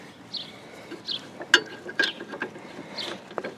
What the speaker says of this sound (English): it's just putting the pin in from the back like that